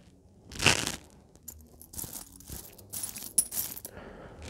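Coins are handled and dropped while being sorted, with a sharp metallic clatter followed by lighter clinks, rustling and scraping, close and clear, with quiet pauses between handling sounds.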